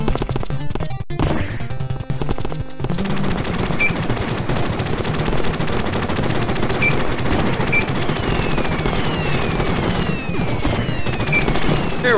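Rapid gunfire from Contra Reforged, a run-and-gun video game: continuous machine-gun bursts with sharp impacts over game music, loud and sustained, no talking.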